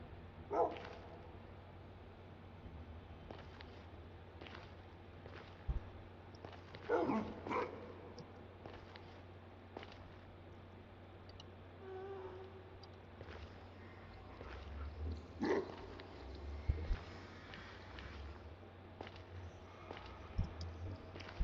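A dog barks and yips in a video game, probably Minecraft, with short barks scattered across a steady low background hum, moderately quiet and mid-distance.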